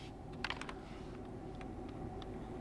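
Keys are pressed on a RedThunder K84 keyboard, giving a few quick clicks and then softer scattered taps over a low background hum.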